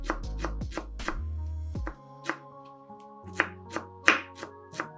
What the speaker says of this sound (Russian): Небольшой пучок укропа очень мелко нарезаем ножом.